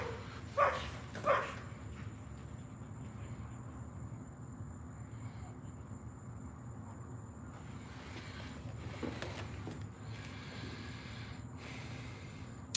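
A dog being walked outside gives two short, sharp barks early on, then quiet outdoor ambience with soft snorting and breathing noises for the rest.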